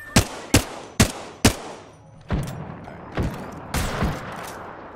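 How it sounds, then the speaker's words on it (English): Gunfire in an Apex Legends-style battle royale match, with four sharp, evenly spaced shots up front followed by three duller, longer bursts, all loud and close with no talking over them. "They're shooting on me."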